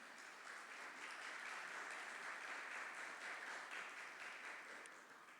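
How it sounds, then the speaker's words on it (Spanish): Audience applause at a film festival industry panel: a sustained, even wash of many hands clapping at moderate distance that tapers slightly at the end, with no speech over it. "quiero pedirles un fuerte aplauso a ambos dos que nos acompañan"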